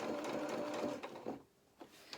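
A sewing machine stitches along the side seam of a small anorak toward the underarm, a steady close whirring run that stops abruptly, followed by a couple of faint clicks.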